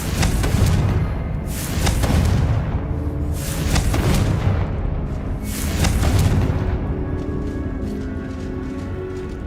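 Repeated Confringo blasting-spell explosions in the video game Witch Simulator 2023 boom loudly about every two seconds, deep rumbling bursts with no talk over them.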